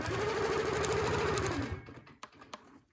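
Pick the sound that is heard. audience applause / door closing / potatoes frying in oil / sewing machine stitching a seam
sewing machine stitching a seam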